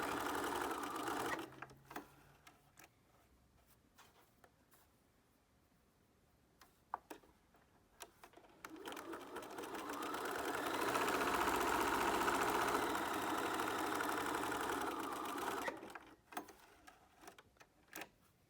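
A sewing machine runs a zigzag stitch along the edge of a fabric face mask, a quiet rapid mechanical chatter in a couple of bursts with a longer steady run in the middle, clicks and handling noises between, nobody talking.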